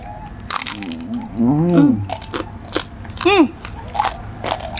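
Crisp crunching bites into roast suckling pig crackling from a Balinese babi guling stall in Bangli, a few close, sharp crunches heard between and under cheerful talk.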